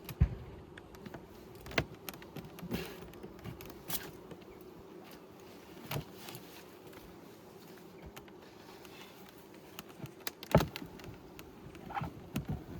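Honey bees buzz steadily throughout an opened beehive, a double-brooded colony in a beginner's apiary, with a continuous low drone broken by scattered clicks and knocks of frames and hive parts being handled nearby.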